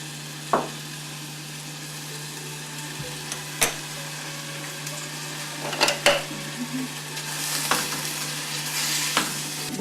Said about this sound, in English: Just to saute it a little bit.